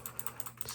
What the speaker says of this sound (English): Nice clicky keyboard.